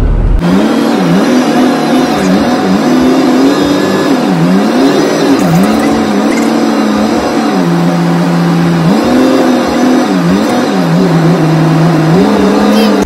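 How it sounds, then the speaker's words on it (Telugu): An airport shuttle bus drives passengers out to a flight, its engine droning loud and close with repeated rising and falling revs as it moves along. "బస్ ఎక్కి వెళ్ళిపోదాం ఫ్లైట్ దగ్గరికి"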